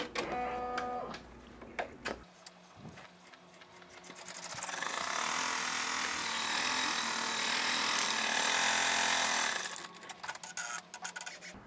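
An embroidery machine stitches out a placement line for an in-the-hoop bear sign, a steady mechanical whir with rapid needle rhythm rising to a loud sustained run in the middle, then easing off near the end.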